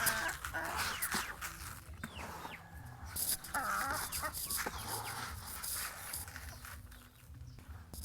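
Chickens cluck and call near the microphone while being fed a mix of ground and soaked sprouted rice on a small family farm, with a busy, continuous flock chatter throughout.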